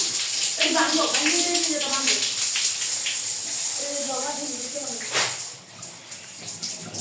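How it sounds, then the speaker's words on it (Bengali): Hot and cold water from a bathroom shower runs in a steady, loud hiss while someone talks over it, and the flow drops briefly near the end. "অত্যন্ত সুন্দর শাওয়ারের পানি পড়ছে"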